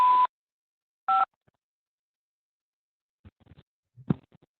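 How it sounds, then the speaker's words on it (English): Keypad DTMF tones on a prepaid call line: two short, clear beeps about a second apart, followed by faint muffled sounds from the handset. "To accept this call, say or dial 5 now."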